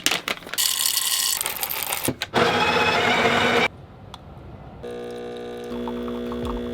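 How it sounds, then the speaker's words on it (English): An espresso machine pulls a shot: bursts of hissing, clattering noise give way to a steady, buzzing pump hum that carries on to the end, with no talking. "you can tell just by the way the shot of espresso pulls whether it's gonna be a good espresso"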